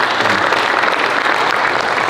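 An audience claps in steady, dense applause that stays loud and even throughout, with no voices rising above it.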